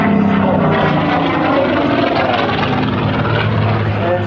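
A Messerschmitt fighter aircraft flies past at the Duxford Flying Legends air show. Its loud, sustained propeller-engine roar stays close and continuous with no clear voices.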